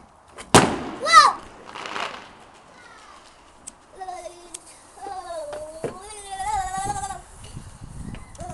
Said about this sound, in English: That's loose, that firework.